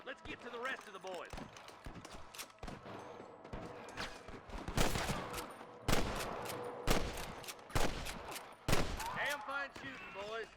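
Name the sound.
gunfire in video game Red Dead Redemption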